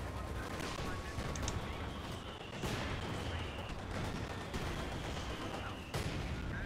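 A support gun firing in Company of Heroes 2 during a British Forces 3v3 match, a few heavy booms spaced apart over a dense, continuous battle din.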